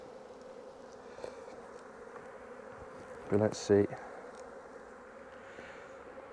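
Bees buzz in a steady, close drone around an open hive in an orchard apiary, with a brief louder burst as one passes near; a voice speaks briefly.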